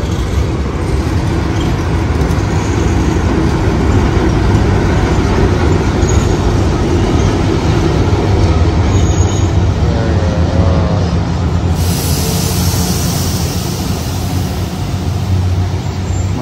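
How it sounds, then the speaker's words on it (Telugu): An Afrosiyob bullet train in Uzbekistan produces a loud, steady, unbroken rumble of rolling motion that fills the whole stretch without letup. "ఆఫ్రోసియో బుల్లెట్ ట్రైన్ ఇదే."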